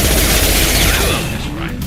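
Rifle fire in the video game Mass Effect 2, a dense, loud volley of shots blurring together with zipping streaks, easing slightly toward the end amid combat noise.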